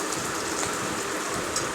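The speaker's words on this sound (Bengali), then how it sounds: "পেঁয়াজ, রসুন আর শুকনো লঙ্কাকে ভালো করে ভেজে নিচ্ছি।" Onion, garlic and dried chilli fry in hot oil, giving a steady, even sizzle that holds at one level throughout without talk.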